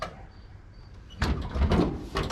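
A 1964 Pontiac Parisienne Custom Sport door opens with a loud mechanical clunk and rattle after quiet, followed by a second burst of handling noise near the end.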